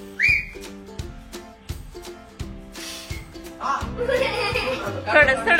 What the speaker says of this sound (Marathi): शिट्टी वाजता बघू शिट्टी